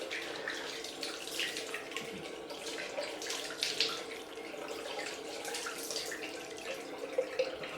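A tap runs steadily for a cold rinse after a head shave, with continuous splashing water hitting a sink at close range and no pauses.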